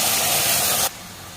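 Onion, tomato, ginger and garlic masala hitting hot oil with cumin seeds, a loud broad hiss for under a second that cuts off abruptly to a quieter sizzle.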